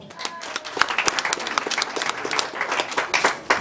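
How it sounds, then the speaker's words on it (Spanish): A wedding party applauds contestant number one in a game, with a fairly small group of guests clapping irregularly with sharp individual claps, sustained for several seconds. "Aplausos para el número uno."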